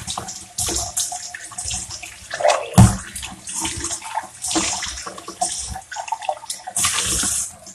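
Water from a tap runs into a sink while something is rinsed under it, splashing loudly and unevenly up close, with one sharp knock partway through and no talking.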